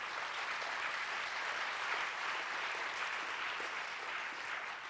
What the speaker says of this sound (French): vous pouvez applaudir